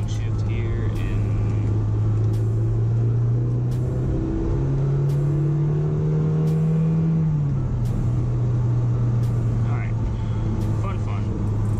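A Honda S2000 roadster heard from inside during spirited driving, its engine droning steadily, dipping as it downshifts and then pulling higher as it accelerates, with talk over the top.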